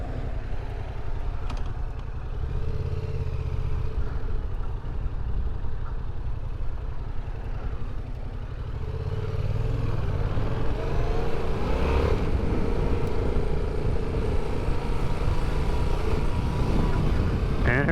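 A 2019 Yamaha XSR700 with a 689 cc parallel-twin engine and 270-degree crank runs steadily, its throbbing exhaust note rising in pitch and level after the midpoint as it pulls away, close and continuous.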